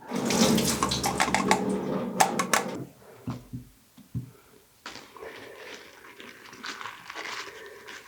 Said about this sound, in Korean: 절여진 오이를 물을 약간 넣고 습기 제거를 한번 하겠습니다